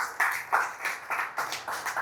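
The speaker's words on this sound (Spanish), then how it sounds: "¿Le podemos dar un aplauso a la ofrenda llamada a Cristo?" A church congregation claps during a Spanish-language sermon, with a brief burst of separate, fairly close hand claps in an uneven rhythm and no voices over it.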